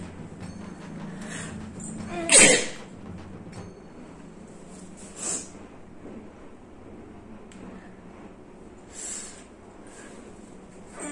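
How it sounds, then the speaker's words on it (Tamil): Sneezes after sniffing chinkini snuff powder burst out as three sharp, noisy blasts spaced a few seconds apart, the first loudest, over a quiet background hiss. "நல்ல தும்மல் வருதுங்க,"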